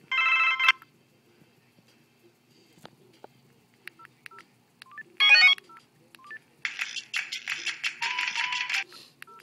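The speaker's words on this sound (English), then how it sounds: "So it seems to be like all the original ringtones that come with all the other Metro phones" A Motorola VE440 phone plays its ringtones in bursts: a short beeping tone, a brief electronic chirp, then a longer patterned ringtone, each separated by near-silence and faint handling noise.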